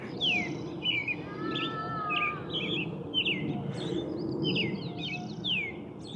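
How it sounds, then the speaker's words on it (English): Several birds chirp and trill in quick, overlapping phrases over a steady low rumble of background noise in a park in Hillsboro, Oregon, fairly close and continuous throughout. "The birds are just singing their heart outs"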